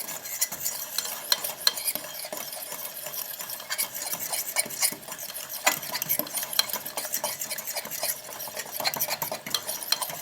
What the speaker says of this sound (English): Let me stir my little pot here.